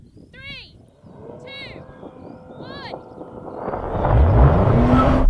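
A Porsche Macan GTS launches in a drag race against a BMW X3 M40d and a Tesla Model Y. Its engine roar swells loudly and climbs in pitch after a few short squeaky chirps at the start.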